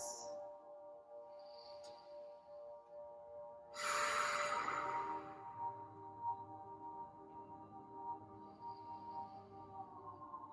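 Deep, slow breathing during a gentle yoga wall session: a soft breath swells into a fuller audible exhale midway, quiet and close against a faint background hum.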